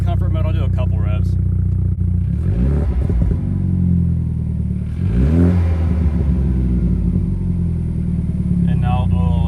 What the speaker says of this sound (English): So this is in comfort mode. I'll do a couple revs.